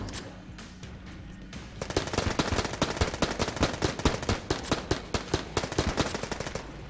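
Rapid, rhythmic bursts of gunfire from the dungeon-crawler game Enter the Gungeon, starting after a brief quieter stretch and continuing as a steady stream of sharp, close shots.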